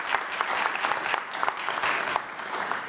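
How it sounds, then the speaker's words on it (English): An audience at a county education showcase applauding, dense steady clapping from a room of people, loud and continuous without voices over it. "let's give Bill a round of applause for starting all this out"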